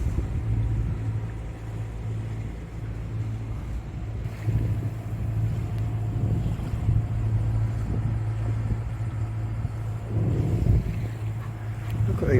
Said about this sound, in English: Motor sailing past the Greek islands.